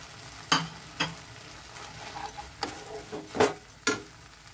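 Boiled spinach goes into a bubbling mung bean curry, and several spaced stirring scrapes and soft clunks sound over a low simmering bed.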